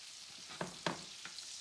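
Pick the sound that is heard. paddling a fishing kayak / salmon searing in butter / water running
salmon searing in butter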